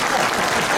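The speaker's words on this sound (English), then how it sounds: "That's worth a round of applause" Audience at a North West 200 road-racing meet-the-riders event in Coleraine applauds a motorcycle rider, a dense, steady wash of clapping filling the whole short moment with no gaps.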